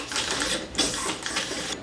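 A cleaning brush is pulled back and forth through a rifle barrel to clear out solvent, making steady, close, rhythmic bristly scrubbing strokes with no talking.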